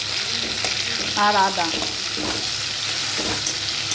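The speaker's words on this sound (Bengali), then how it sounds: "কড়াইতে আমি আবারও তেল দিয়ে দিলাম এতে তেজপাতা আর সাদা জিরে ফোড়ন" Chopped tomato fries in oil in a kadai with bay leaf and white cumin, making a steady loud sizzle with stirring scrapes and a brief voice in the background.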